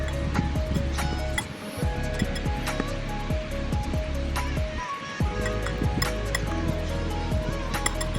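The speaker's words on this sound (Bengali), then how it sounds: "সব ডিমগুলো এভাবেই গ্রেট করে নেব।" Boiled eggs being grated against a metal grater in a kitchen, a steady close scraping rasp with repeated clinking strokes, continuous and fairly loud throughout.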